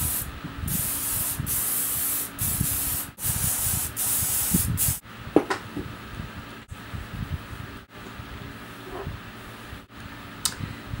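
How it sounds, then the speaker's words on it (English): Several hissing bursts of aerosol dry thickening hair spray in quick succession, each a second or so long, separated by short pauses and soft rustling. "take my dry thickening spray, and I'm gonna flip my head to one side, and I'm gonna spray this"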